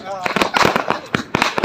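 Diwali firecrackers bursting at night, a quick run of sharp pops and bangs with voices shouting over them.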